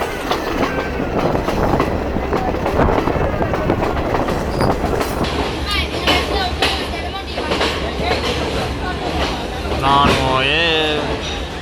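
A train pulls into Pattipola railway station in the Sri Lankan hill country, wheels clattering loudly over the rails with a high squeal of braking near the end and people talking over it.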